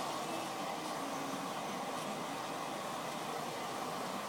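A hair dryer blow-drying hair, a loud steady roar of blowing air held at constant strength from start to finish, close by and with no talking over it.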